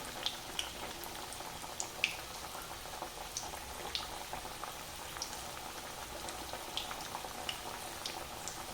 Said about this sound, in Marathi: तेलाचं प्रमाण बघून आपण त्याच्यामध्ये वड्या सोडायच्या